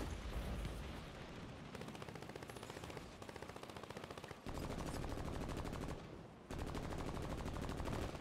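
Video game gunfire, rapid automatic bursts rattling in fast repeated volleys with brief gaps between them, dense and close, with no talking.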